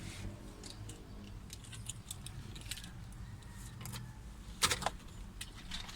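Keys jangling near a Toyota Innova in a repair shop, a few light metallic clinks scattered over steady low background noise with one brighter rattle toward the end.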